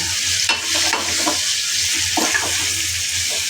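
Tomato and potato frying in a pan for prawn curry, a continuous close sizzle broken by several scraping stirs of a spoon, with no one talking.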